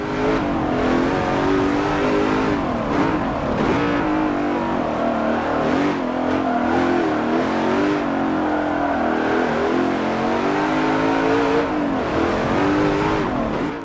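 Race car engine in Forza Motorsport 7, loud and continuous, revving and accelerating with rising and falling pitch through gear changes, close and dominant with no voices.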